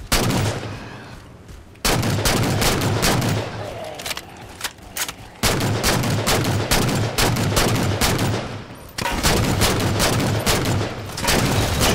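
Plasma weapons firing in a Halo Spartan Ops mission, with loud rapid bursts of shots in long, dense volleys broken by brief pauses.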